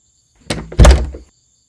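A door is opened with a soft rattle followed by a heavier wooden thunk, close and loud, a single brief action in a quiet room.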